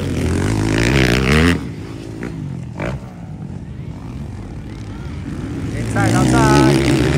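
Motocross motorcycles race at a dirt-track event in Libungan, North Cotabato, their engines whining loudly and rising in pitch, then fading to a distant drone before another bike roars back in, with a commentator talking over them.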